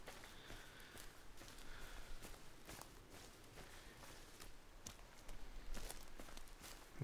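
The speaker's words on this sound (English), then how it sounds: "You can kind of hear their footsteps as they're coming" Faint footsteps of creatures approaching in the video game Sons of the Forest, soft irregular thuds spread across several seconds, quiet and distant.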